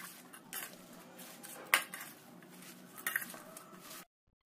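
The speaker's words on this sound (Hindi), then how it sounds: "नमक डालने के बाद सारी चीज़ों को अच्छे से मिला लीजिए" Spinach, potato, cauliflower and salt being mixed for pakoras in a bowl, with a steady soft rustle and squish, a couple of sharper clinks of utensil against the dish, then silence.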